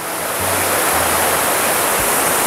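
Water rushes all around at Bindu Barrage, a loud, unbroken roar of torrent close by with no pause or variation.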